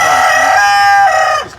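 A naked-neck chicken at a farm in hot, humid Fort Myers, Florida crows loudly and close by, one sustained, strained call that trails off and ends within about a second and a half.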